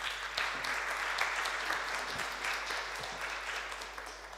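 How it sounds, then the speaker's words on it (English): Audience at an AI conference applauds its panelists with a steady, dense wash of clapping that holds evenly throughout and tapers slightly at the end. "let's give them a round of applause."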